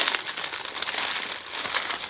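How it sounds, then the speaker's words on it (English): Plastic packaging around a pair of gloves crinkles and rustles continuously for about two seconds, a close, busy crackle with no talking over it. "Sorry about the plastic noise."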